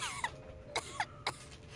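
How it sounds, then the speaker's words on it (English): A character in a Genshin Impact cutscene set in Snezhnaya coughs several short, dry times, fairly faint over a soft musical background. "How long have you had that cough, Tonya?"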